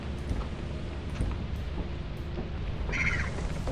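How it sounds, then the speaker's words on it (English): Rain falls in Lethal Company as a steady broadband hiss with low rumbling underneath, continuous and moderately loud, and a brief higher tone near the end. "Of course it's fucking raining."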